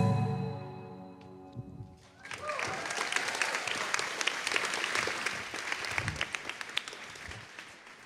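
Audience applause for a stage performer follows a brief musical tone at the start, rising into dense, sustained clapping from a crowd for the rest of the stretch.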